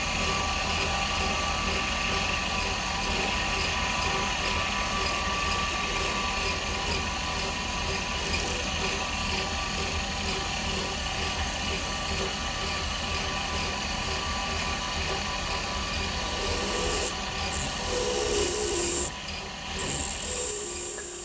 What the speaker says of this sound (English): the dulcet tones of a rapidly dulling drill bit